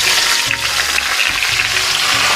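Raw mango pieces fry in mustard oil with five-spice seeds, a loud, close, continuous sizzle and crackle with brief stirring bumps throughout.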